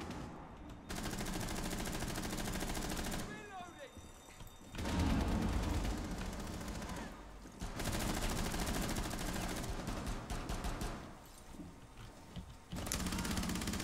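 Gunfire in the video game Rainbow Six Siege: repeated bursts of rapid automatic shots in several clusters with brief pauses between, loud and close, with some faint voices underneath.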